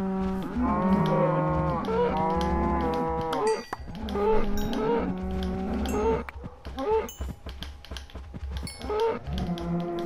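Minecraft cows being killed for meat low repeatedly, in a string of drawn-out moos broken by sharp hit sounds, loud and continuous throughout.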